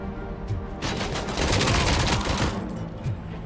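Rapid automatic handgun fire rattles in quick bursts with booming impacts during combat in the RoboCop video game, dense and loud throughout.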